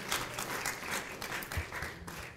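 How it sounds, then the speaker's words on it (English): Audience applause at an evening church event honoring winners, a brief burst of many hands clapping in a dense, even patter that holds steady throughout. "Can we get a round of applause for our winners tonight?"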